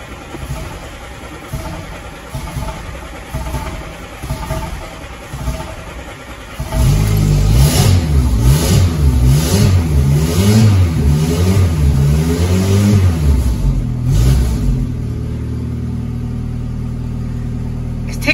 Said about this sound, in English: So now that new flange has been fitted and everything's back together, I'm gonna go for startup.